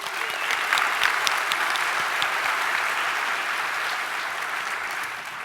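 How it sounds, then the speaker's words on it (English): A large keynote audience at a FinOps industry conference claps for the event's platinum cloud sponsors, a steady, moderately distant round of applause that holds evenly and tapers slightly toward the end. "Big round of applause for them, please."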